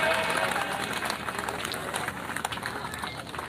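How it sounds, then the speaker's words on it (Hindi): A large crowd at a public gathering claps and applauds continuously, a dense, steady patter of many hands at moderate distance. "जितनी ताली उतनी बजाना जितना दम है उतनी ताली बजाना"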